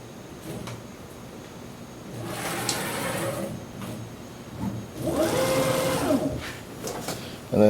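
A CNC machine spindle traverses in two separate motor whines, a rising and falling hum around the middle and a louder sweep near the end, with faint beeps and a quiet shop background.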